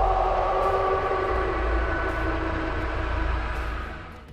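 Grandpa's scream in the Texas Chainsaw Massacre video game comes through as a loud, sustained droning wail over a low rumble. It holds steady, then fades out toward the end.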